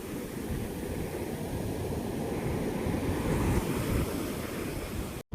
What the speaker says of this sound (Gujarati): આ દરિયાનો જે ઘૂંઘવાટો છે ને